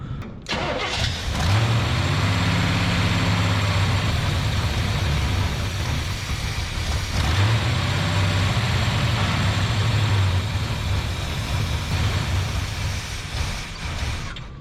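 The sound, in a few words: 1973 Chevrolet C10 big block engine running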